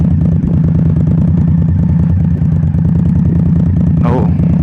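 A motorcycle engine rumbles steadily at low throttle during a slow training turn, loud and close, with the clutch working and a brief high chirp near the end.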